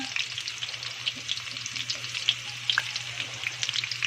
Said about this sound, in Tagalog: Ilunod ang hipon.